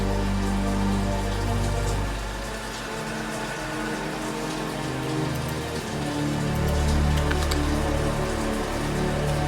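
Heavy rain falls steadily during a StarCraft tournament stream, a dense continuous hiss of drops with low rumbling underneath and no speech.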